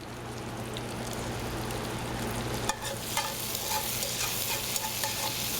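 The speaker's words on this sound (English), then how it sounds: "Yeah, nice sizzle to it." Steady, close sizzling and crackling of garlic in a hot pan, with a brief clatter midway as the frying continues loudly.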